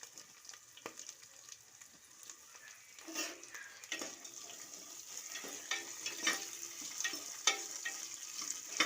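Onions for vegetable pulao fry in a pan with a steady soft sizzle, and occasional stirring scrapes and clinks grow slightly louder toward the end, with no voices.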